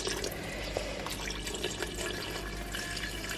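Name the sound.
water poured into pot of potatoes and Brussels sprouts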